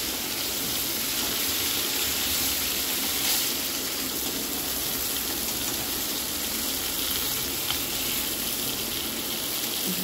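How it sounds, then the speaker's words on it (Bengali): Fish frying in oil gives off a continuous, even hiss and crackle at low volume for the full length, with no voices. "মাছটা লাল লাল করে ভাজতে হবে।"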